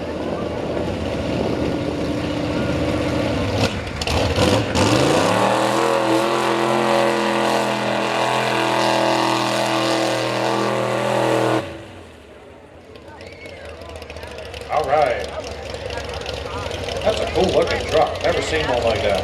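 A mud bog racing truck with a Chevy body and Ford motor roars loudly at full throttle, its engine pitch climbing and holding before cutting off abruptly, with an announcer talking over the run and crowd noise afterward.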